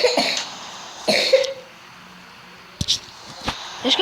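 A person nearby coughs a few times in short, sharp bursts separated by quiet gaps, with some throat sounds and faint background noise in between.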